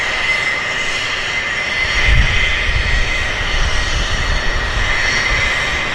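A WestJet airliner's jet engines roar through its takeoff roll, loud and continuous, with the low rumble swelling briefly partway through and no one speaking.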